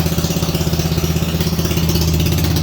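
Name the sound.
vehicle engine running after jump start with booster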